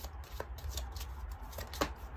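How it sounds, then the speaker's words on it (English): Tarot cards are shuffled by hand in a quiet room, with quick papery riffles and soft taps coming in short irregular bursts, close and alone. "Let me just shuffle these again."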